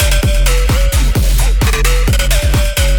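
A bass house synth pluck lead, treated with EQ, delay and reverb, plays a loud, fast, rhythmic pattern of bright stabs over a pounding low kick, with tails ringing between hits.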